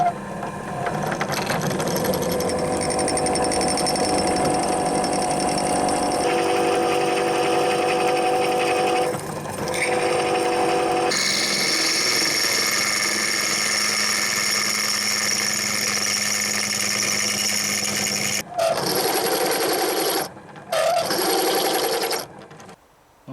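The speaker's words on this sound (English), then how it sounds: "So I'll set up in a drill press." A drill press runs steadily while drilling a custom front wheel hub cover for a Triumph Bonneville T140, with a sustained motor whine and cutting noise that shifts in pitch, then cuts out briefly near the end.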